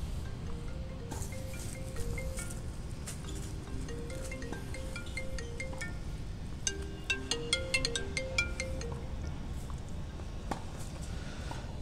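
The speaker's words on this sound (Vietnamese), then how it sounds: "Điện thoại ai mà gấp gọi liên tục à." A mobile phone ringtone rings over and over as a repeating melodic tune, fairly clear against a steady low background hum, with no talking during the ringing.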